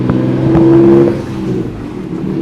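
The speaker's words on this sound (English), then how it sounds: "It's time for a test drive." A car under way on a test drive after the suspension was set back to stock height, engine droning steadily with a brief rising rev near the start, close and continuous throughout.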